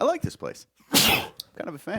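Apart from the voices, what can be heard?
sneeze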